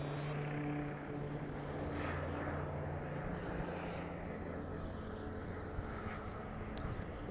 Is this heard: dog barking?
no